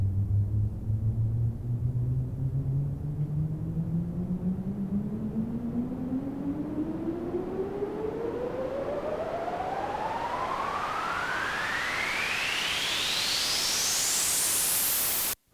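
A white noise riser built in Serum, with a pitch-modulated oscillator and unison layers, sweeps steadily upward over about fifteen seconds as loud broadband noise with a rising tone, then cuts off abruptly.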